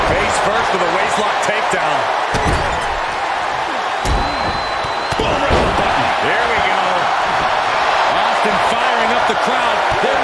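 A back suplex slam lands in a WWE 2K24 Royal Rumble match, with a heavy thud and impacts on the mat over a loud, steady crowd roar and commentary talk.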